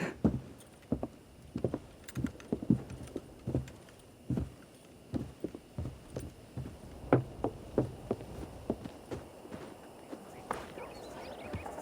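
In the Red Dead Redemption video game, horse hooves clop at a steady walking rhythm on the ground, moderately close and fairly quiet, with faint ambient background.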